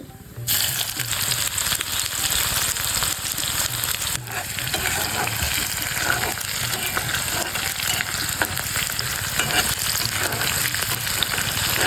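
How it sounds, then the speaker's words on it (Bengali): Black cumin seeds and chopped onion frying in hot oil give a dense, steady sizzle that starts abruptly and crackles on without a break, close and loud. "প্রথমে দিয়ে দিচ্ছি কালো জিরা, তারপরে দিয়ে দিচ্ছি পেঁয়াজ কুচি"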